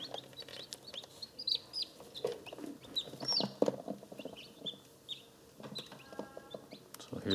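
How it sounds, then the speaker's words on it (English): Newly hatched chicks released from an incubator make soft chirps and cheeps, scattered and close by, with some clucking-like calls and occasional rustles and bumps. "I'm going to open the incubator up and let the chicks begin to explore their new home."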